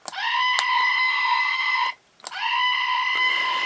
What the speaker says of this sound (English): It's a rubber goat that screams.